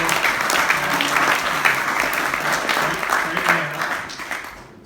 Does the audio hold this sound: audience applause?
yes